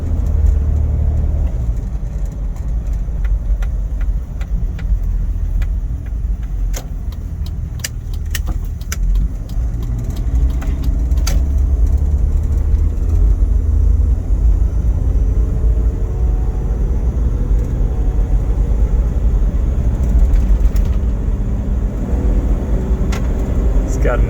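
A 1993 Toyota Land Cruiser 70 Series heavy-duty 77 drives steadily, its engine a loud continuous low rumble from inside the cab with light rattles, while someone talks over it.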